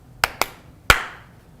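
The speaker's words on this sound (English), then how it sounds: "she would clap out a rhythm" A teacher claps out a short rhythm with her hands for a student to copy: three sharp, close claps, the first two quick together and the last after a pause, ringing briefly in a quiet room.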